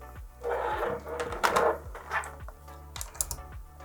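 Close plastic clicks and rattling handling noises as a hose is connected to a 12-volt SILA 900410 car air compressor, a few sharp snaps and scrapes in irregular bursts, with no voices.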